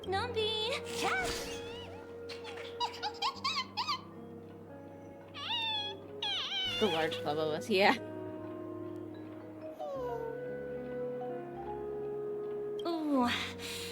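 Numby, a cat character in the video game Honkai Star Rail, meows several times in bright, rising and falling cries, mixed with game music and a voice talking over and between them.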